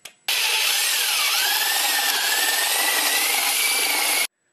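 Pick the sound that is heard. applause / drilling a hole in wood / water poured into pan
drilling a hole in wood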